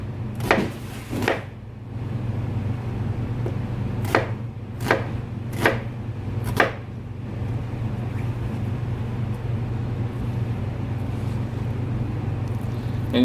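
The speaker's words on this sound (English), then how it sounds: "Okay, so all we do is just rough chopping everything." Rough chopping of vegetables for sweet and sour spare ribs, with a run of sharp knife strikes on a cutting board in the first seven seconds, then only a steady low hum with no talking.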